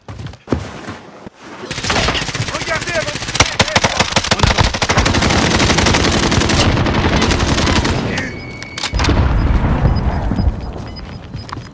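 Sustained machine-gun fire in Call of Duty Warzone, a loud rapid rattle of gunshots running for several seconds, with brief booms and other game sounds before and after.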